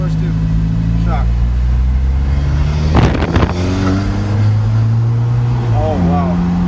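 A 2015 Alfa Romeo 4C accelerates hard, its engine note climbing steadily in pitch from inside the cabin, with a loud burst of revving midway and voices talking over the drone.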